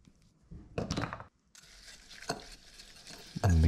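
Chili crisp, crushed fresh garlic and Brussels sprouts with bacon are stirred together in a pan, giving a few separate scraping, sizzling bursts that swell and fade, with a louder clatter at the end.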